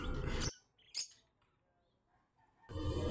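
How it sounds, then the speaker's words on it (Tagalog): Birds in a home aviary give a couple of brief, faint chirps in a quiet gap between louder bursts of sound at the start and end. "mag-update lang po sa ating pong mga ibon ngayong araw na to"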